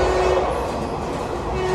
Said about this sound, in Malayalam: നമ്മൾ ട്രെയിൻ കിട്ടിയിരിക്കുന്നു.